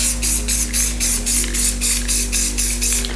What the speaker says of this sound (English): No, I'll spray paint it.